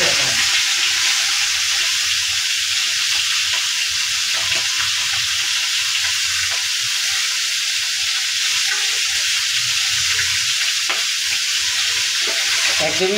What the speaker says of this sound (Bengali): মশমশে করে ফ্রাই করা হচ্ছে তেলের মধ্যে